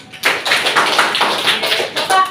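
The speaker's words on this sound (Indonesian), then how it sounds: "Tepuk tangan untuk kalian semua." Classroom students clapping their hands together in unison, a quick run of bright, close claps lasting a couple of seconds with no talking.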